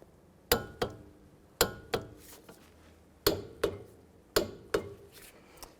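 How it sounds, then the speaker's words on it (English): Torque wrench tightening wheel hub bolts on a 2003–2007 Cadillac CTS, sharp metallic clicks arriving in pairs, four pairs spaced about a second apart, close and crisp over a quiet background. "I'm going to torque these bolts to 100 foot-pounds"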